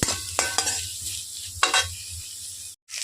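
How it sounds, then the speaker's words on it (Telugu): Onions and carrots fry in a pan for a chicken roll filling, a steady close sizzle broken by several scraping stirs, with no voices. "ఈ ఉల్లిపాయలు అవి బాగా వేగేటండి ఉల్లిపాయలు క్యారెట్లు అన్నీ వేగిన తర్వాత"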